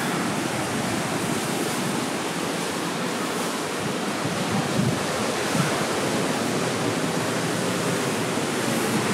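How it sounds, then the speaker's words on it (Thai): Strong ocean surf on Nai Thon beach in Phuket, a steady loud roar of breaking waves with no pauses, close and continuous, with no one talking over it. "คลื่นแรงมากเลย"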